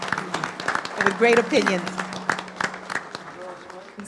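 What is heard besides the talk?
audience applause at a city commission meeting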